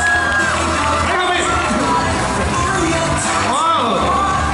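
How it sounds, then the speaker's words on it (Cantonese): A crowd at a film premiere cheers, whoops and applauds loudly and continuously, the noise close and dense, with a voice shouting over it. "我哋可以俾最熱烈嘅掌聲歡迎我哋幾位嘅型男主角啊"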